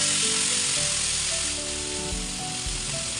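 Soaked fish hitting hot oil in a pan for a tawa fry, a loud, steady sizzle that fills the short clip and swells briefly with a few low bumps.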